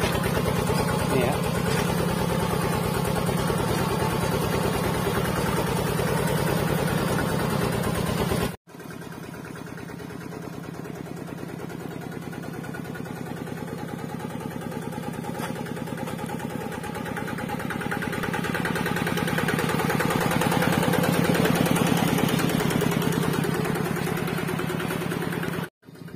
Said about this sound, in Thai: ได้การได้ชมการทำงานของรถไถค่ายช่างป๊อป